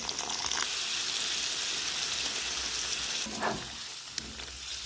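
A splash of water hits frying chicken in a pan and sets off a loud, broad hiss that fills the whole stretch, with a short pour or scrape partway through and no speech.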